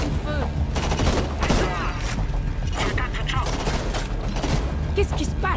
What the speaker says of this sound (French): ses coups de feu.